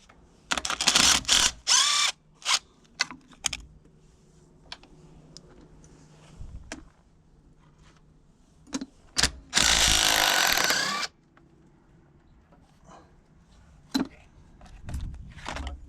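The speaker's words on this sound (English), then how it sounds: "So now we can go around and zip all the other bolts out." A power tool zips bolts out of the transmission top cover on an antique Caterpillar RD4 tractor, in several short whirring bursts and one longer run, close, with clanks and quiet workshop pauses between.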